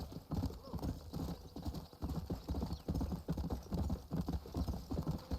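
Horse hooves clip-clop in a steady trotting rhythm in the video game Red Dead Redemption, close and fairly soft, with a brief whinny mixed in.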